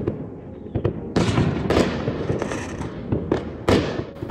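Fireworks and firecrackers explode in a dense, loud barrage of crackling bursts and sharp bangs over a New Year's Eve in the Philippines, continuous and layered without talk.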